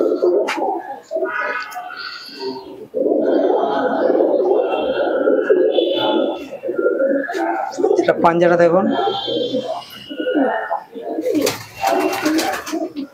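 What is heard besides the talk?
pigeons cooing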